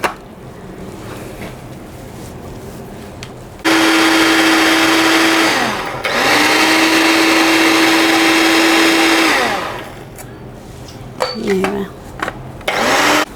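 A blender grinds onion peels loudly in two long bursts with a short pause between, its motor whining steadily, then stops, followed by some clatter.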